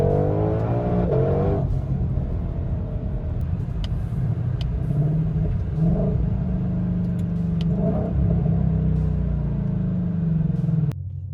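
A 2020 Shelby GT500 with a 5.2-litre supercharged V8 and seven-speed dual-clutch gearbox drives and slows to pull over, a loud steady low engine drone with shifting tones, easing off near the end.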